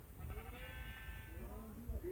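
A Minecraft sheep gives a single wavering bleat, faint and alone, with a soft background hum.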